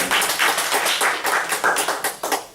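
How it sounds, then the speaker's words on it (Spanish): Church congregation applauding the Lord, a loud, rhythmic bout of clapping with regular beats, close and unaccompanied by speech. "Un aplauso al Señor."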